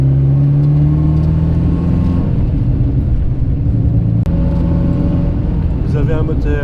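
An Alfa Romeo Spider 1750 with a 1800 cc twin-cam engine and two Weber 40 carburettors runs with a loud, steady, throaty idle and a slight rise in pitch, heard up close from inside the car.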